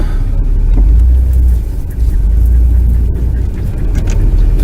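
A vehicle on an off-road track drives over a tree, with a loud, close, steady low engine rumble and some rough, scraping texture throughout.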